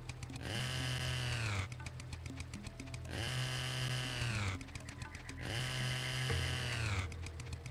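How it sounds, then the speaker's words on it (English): Chainsaw in the video game Serious Sam HD: The Second Encounter, revving in three long sustained bursts with a rising then falling whine, separated by short choppy idling gaps, loud and up close. "If I could chainsaw the grass too, I would."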